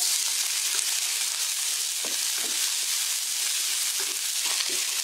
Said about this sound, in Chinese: 油热下蒜苗。